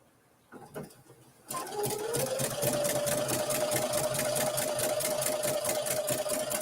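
A sewing machine runs steadily, stitching in the ditch on a small quilt at about a 3.5 stitch length, starting after a few handling clicks and holding a close, even mechanical whir to the end.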